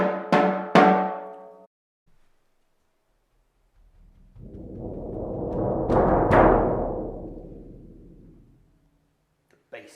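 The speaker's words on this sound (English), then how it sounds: "Sometimes you'll have the instruction to take off the snares, in which case it sounds like this." A snare drum played with the snares taken off, giving a few sharp, ringing strikes followed by a soft roll that swells up and fades away, heard alone and fairly close.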